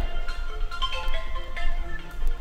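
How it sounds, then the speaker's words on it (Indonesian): A mobile phone rings during a podcast recording, a melodic electronic ringtone repeating steadily and fairly loud throughout. "Ada telepon, mau jawab dulu nggak?"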